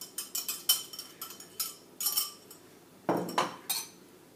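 An egg is beaten in a bowl with a metal utensil, giving a run of quick, light clinks and taps in uneven bursts, close and fairly quiet.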